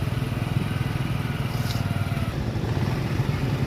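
A motorcycle engine putters steadily at night near a railway crossing in Sargodha, Pakistan, with a fast, rough pulsing throb, close and continuous, with faint scraping and crackle mixed in.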